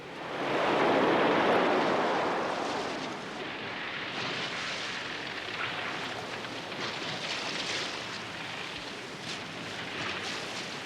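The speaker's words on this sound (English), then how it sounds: "they heard the unmistakable roar of the surf, hurling itself at the reef surrounding an atoll" Heavy surf roars against the reef surrounding a Pacific atoll, a broad continuous wash that swells loudest early on and then rolls on steadily, with no voices.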